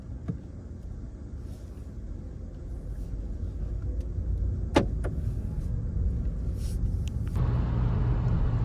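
Car cruising on the Autobahn, heard from inside the cabin as a steady low road and engine rumble that builds gradually, with a few faint clicks and ticks over the top.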